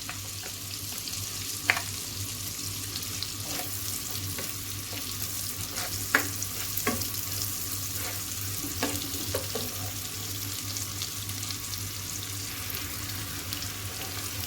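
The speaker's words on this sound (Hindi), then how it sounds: "यहाँ पे प्याज फ्राई हो रहा है मक्खन में।" Onions frying in butter in a pan, a steady close sizzle with a few faint clicks of stirring, and no talking.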